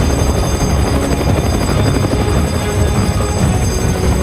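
A loud helicopter drones close by, a dense, constant rotor roar with a low throbbing pulse and no other sounds.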